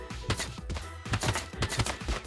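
Rapid gunfire from a unit in the video game Totally Accurate Battle Simulator, a quick rhythmic series of thumping low shots in two clustered bursts, close and punchy.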